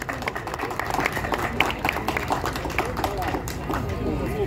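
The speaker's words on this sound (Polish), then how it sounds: "wielkie brawa dla wszystkich wyróżnionych" Audience at a 50th anniversary celebration of the Maltanka park railway applauds award recipients, a rattling spread of individual claps at moderate level with voices mixed in underneath.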